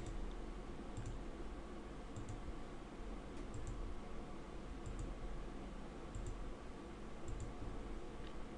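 Mouse clicks from setting points on a power window shape in DaVinci Resolve colour grading software, sounding as sharp, faint, evenly spaced single clicks roughly once a second over a steady low room hum.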